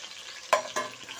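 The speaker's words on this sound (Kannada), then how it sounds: "ಪುದೀನ ಸ್ವಲ್ಪ ಫ್ರೈ ಆಗಬೇಕು" Chopped mint leaves frying and being stirred in a pan while cooking vangi bath, giving two short bursts of sizzle and scraping over a soft, steady background hiss.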